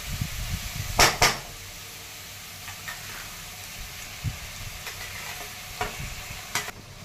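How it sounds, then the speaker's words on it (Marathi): Mashed eggplant bharit with chopped spring onion greens sautés in a pan, a low steady sizzle broken by a few sharp spatula scrapes and knocks against the pan, close and alone with no voices. "तर आता हे छान परतून घ्यायचं आहे आपल्याला।"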